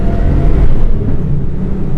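A 1988 BMW E24 635CSi with a twin disc clutch and turbo pulls hard in second gear, giving a steady, loud engine rumble that is heard from inside the car and holds for a couple of seconds.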